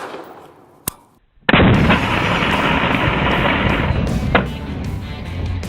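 A .50 caliber rifle round fired into a stack of graphics cards: one sharp crack, then a second huge, sustained blast of broadband roar that rumbles on for several seconds with a smaller spike partway through, outdoors and very loud.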